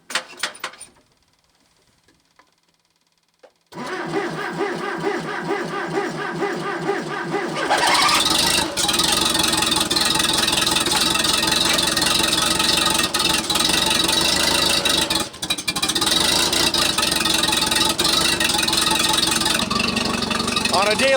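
A diesel bulldozer engine starts on a very cold morning of about minus 20, cranking briefly after a quiet pause, then catching into a loud, steady rumbling idle that runs close and continuous to the end.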